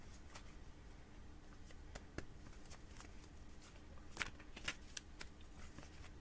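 Playing cards riffled and shuffled over and over in short crisp bursts, close up and fairly quiet, with sharp flicks standing out near the end.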